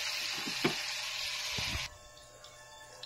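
Adobo in a pan with vinegar and soy sauce fries with a bright, close sizzle, broken by a few stirring clunks, then drops suddenly to a much quieter simmer.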